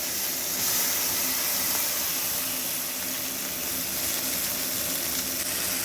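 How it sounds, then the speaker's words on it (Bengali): Boiled, drained mixed vegetables tipped into onion-garlic spice masala frying in oil for a mixed tarka, producing a steady, close, broad sizzling hiss that holds evenly throughout with no voices. "এবার আমি এর মধ্যে সেদ্ধ করে জল ঝরিয়ে রাখা তরকাগুলো পুরোটাই দিয়ে দিচ্ছি"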